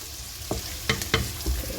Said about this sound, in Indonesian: bawang putih terlebih dahulu. Nah, ini tumis dulu sampai wangi dan berubah warna